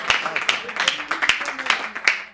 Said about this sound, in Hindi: एक बार बहुत जोरदार तालियों के साथ श्रवण को आमंत्रित करें।